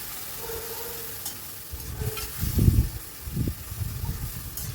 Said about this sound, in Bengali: আর অল্প একটু জল দিয়ে মশলাটা ভালো করে কষিয়ে নেব।